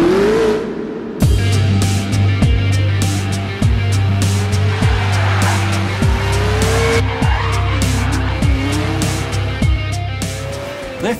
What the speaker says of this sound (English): Drift, the world's first model car that performs with the same driving dynamics as a real racing car.